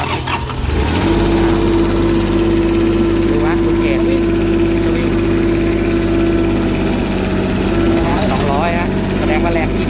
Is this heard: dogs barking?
no